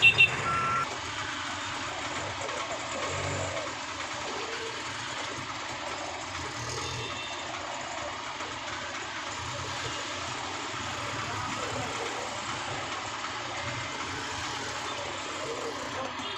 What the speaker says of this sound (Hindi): तो ये पूरा जाम ही जाम है।